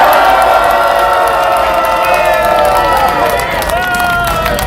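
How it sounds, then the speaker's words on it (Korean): A large crowd at a political rally roars with loud, sustained cheering and shouting that stays strong throughout and blends into one continuous wall of voices. "박수 한번 쳐주세요"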